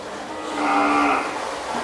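A high-blood Charolais cow on a Thai cattle farm gives one long, loud, close moo that swells and fades over steady background noise.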